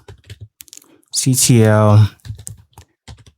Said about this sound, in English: So just type in kubectl